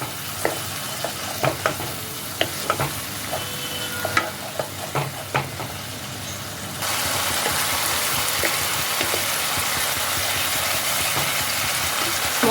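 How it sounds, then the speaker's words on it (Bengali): Spice paste for a Bengali tangra fish oil-jhal curry cooks in oil with a splash of water: intermittent stirring clicks over a low bubbling sizzle, which swells into a steady, louder frying hiss partway through. "এই সব কিছু দিয়ে মশলাটাকে আবারও বেশ ভালোভাবে খানিকক্ষণ কষাতে হবে।"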